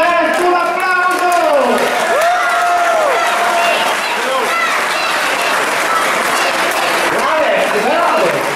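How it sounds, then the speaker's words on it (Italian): Loud crowd applause at a party event in Palazzago welcoming Matteo Salvini, dense clapping and cheering mixed with a voice calling out over an amplified sound system. "Matteo Salvini alla sua conferenza, un applauso."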